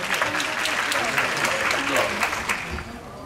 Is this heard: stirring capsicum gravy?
no